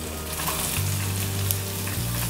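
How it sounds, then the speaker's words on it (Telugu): Sliced onions sizzle steadily in hot oil with whole spices for a vegetable pulao, a close, continuous frying hiss with a low hum beneath and no talk. "దీన్ని బాగా ఫ్రై చేసుకోవాలి"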